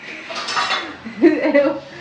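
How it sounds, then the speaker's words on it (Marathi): Dishes clink and scrape close by while being washed, with brief rattles of pots and utensils and a voice nearby. "आमचे अहो भांडी घासतायत"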